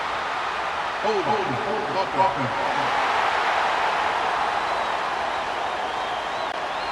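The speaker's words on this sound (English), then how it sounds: "listen to this crowd noise. This stadium is vibrating." Roaring stadium crowd in the College Football 26 video game, a steady dense wall of cheering through the whole stretch, with a commentator's voice briefly over it near the start.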